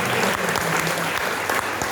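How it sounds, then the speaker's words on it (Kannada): An audience claps loudly and steadily for a Yakshagana talamaddale troupe after their performance, a dense burst of applause that runs through the whole moment. "ಒಂದು ದೊಡ್ಡ ಚಪ್ಪಾಳೆ ಈ ತಂಡಕ್ಕೆ ಕೊಡ್ತೀನಿ"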